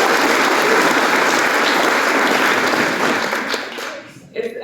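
A large crowd at a book launch claps and cheers loudly and steadily, then the applause fades away near the end.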